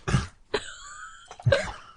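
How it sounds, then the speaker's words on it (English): Two harsh, throaty coughs close up, separated by a brief pause filled with a thin, wavering tone. "Do you need to cough?"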